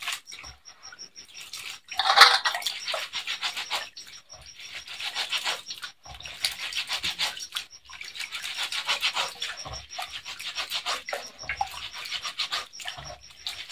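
Soaked moong dal rubbed by hand in water, a close, soft, continuous swishing and scrubbing with light splashes and one louder clatter early on, heard with no talk.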